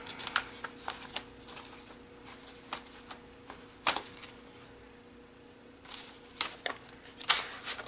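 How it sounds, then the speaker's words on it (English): A needle pokes holes through a paper signature for a Frozen Little Golden Book junk journal, a string of sharp, close little pops and crinkles coming irregularly, with a quiet gap midway. "I'm just going to poke the holes with my needle"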